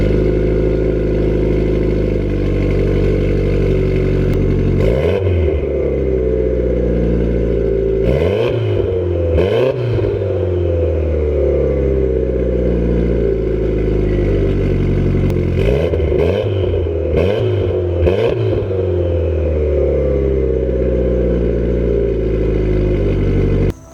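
A 2010 Mitsubishi Evo X SE with an aftermarket exhaust that still has its catalytic converter, cold-started outdoors as rain begins: a steady deep burbling idle, loud and close, broken by several sharp revs that rise and fall.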